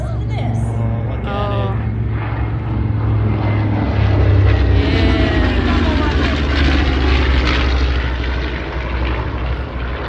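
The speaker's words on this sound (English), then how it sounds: "We've got the B-25 coming in from the right." A B-25 bomber roars past at an airshow with a loud, steady propeller drone that swells toward the middle, while spectators chatter and exclaim nearby under the engine noise.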